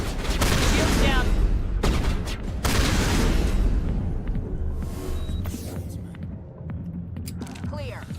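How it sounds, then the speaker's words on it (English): Shotgun gunfire in the video game Mass Effect, heavy booming blasts with dense mechanical clatter, loudest early and then fading into quieter game effects, with a voice speaking over part of it. "Get me my giant ass shotgun."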